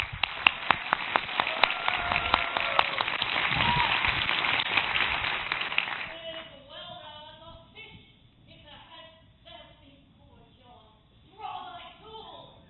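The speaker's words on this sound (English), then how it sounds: "Round of applause." An audience at a Ruby programming conference breaks into brisk applause for about six seconds before it cuts off, after which people speak on their own in a quieter room.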